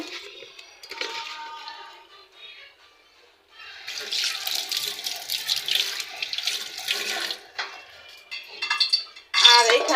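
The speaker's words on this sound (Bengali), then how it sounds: "আর এগুলি ধুয়ে নিব" Food is rinsed under a running kitchen tap, water splashing and rushing in a steady stream that swells and fades, with a few clinks of dishes and a voice briefly heard.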